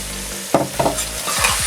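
Onions for Samarkand plov hiss loudly in hot oil, broken by sharp metallic scrapes and clanks of stirring at close range, then a few low rumbling knocks at the end.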